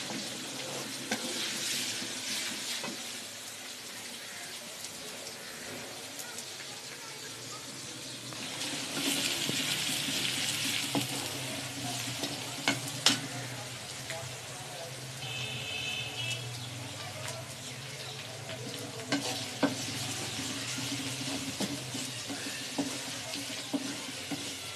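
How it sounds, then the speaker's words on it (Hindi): Garlic ginger paste fries in a pan with a steady sizzle that continues throughout, occasionally stirred and with a few faint clinks and water sounds, no voices. "लहसुन अदरक का पेस्ट, इसको भी 5 मिनट इसके साथ भुनाई करेंगे।"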